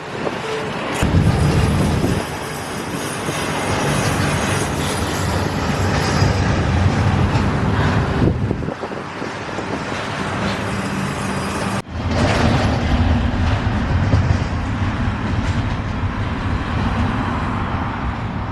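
A Conrail freight train rolls past close by, a loud continuous rumble of rail cars with clattering wheels that shifts briefly midway and keeps going.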